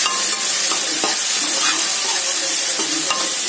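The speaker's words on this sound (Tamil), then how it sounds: "வெங்காயம் தக்காளியும் நல்லா வதக்கி விடுங்க." Onions and tomatoes sauté in a pan, a loud, dense sizzle with repeated clicks and scrapes of a stirring spoon, close up and without speech.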